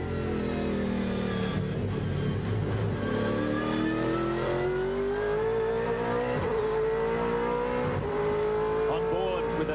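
V8 Supercar race cars from the 2002 championship accelerating hard through the gears around a circuit, including a 00 Motorsport Ford, a loud continuous engine roar with rising revs and shifts under commentary.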